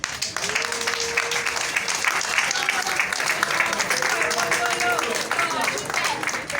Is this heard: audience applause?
yes